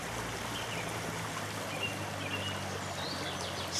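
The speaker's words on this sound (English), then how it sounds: "Nice area, nice river." A river in the Bulgarian mountains flows with a soft, continuous babble and trickle, moderately close, while faint birdsong chirps now and then in the background.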